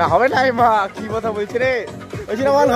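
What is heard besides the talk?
No everyday noises stand out.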